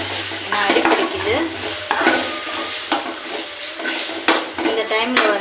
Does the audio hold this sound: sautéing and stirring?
yes